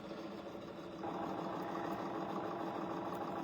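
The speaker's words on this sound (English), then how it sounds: "I'm going to just sew a straight line." A domestic sewing machine stitches a straight line in quilting fabric with a steady, low motor hum close by. The hum grows slightly louder after a second as it speeds up, and no one talks.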